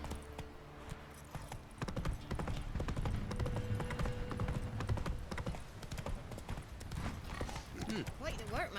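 Horse hooves clip-clop at a steady gallop while riding in The Witcher 3 video game, a continuous rhythmic beat that runs throughout with a brief whinny and game voices over it.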